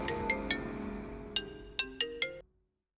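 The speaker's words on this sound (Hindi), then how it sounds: "मैडम, आपका फोन है मैडम।" A mobile phone ringtone plays a short electronic tone pattern, clear and moderately loud, ending with several quick pinging notes before cutting off into silence.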